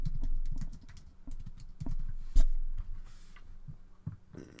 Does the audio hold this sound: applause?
no